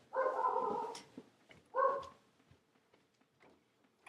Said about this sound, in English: I'm gonna see what my dogs want.